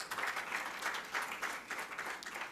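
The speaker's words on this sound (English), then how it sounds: "Please give a huge round of applause for Krishna Mohan." A quiet, continuous round of audience applause at a talk on predictive analytics in legal litigation, with many hands clapping at once and no voices over it.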